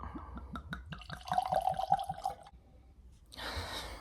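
Bowmore 9 whisky poured from a bottle into a glass, a close, quiet series of rapid glugs rising in pitch as the glass fills, ending in a short pause and a soft rustle.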